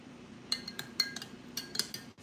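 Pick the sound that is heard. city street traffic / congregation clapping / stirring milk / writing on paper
stirring milk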